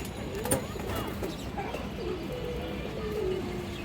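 Soft pigeon coos drift over a steady background hiss at a pigeon farm, several low rolling calls spread across the clip.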